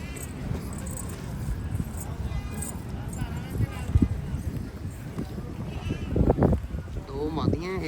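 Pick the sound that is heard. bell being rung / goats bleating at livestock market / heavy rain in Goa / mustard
goats bleating at livestock market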